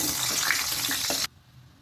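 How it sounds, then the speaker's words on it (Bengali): Bay leaves sizzle in hot oil as a Bengali tempering for shukto, a steady close crackling hiss with a few small pops that cuts off abruptly partway through, leaving quiet. "তেজপাতা ফোড়ন দিন তেলে"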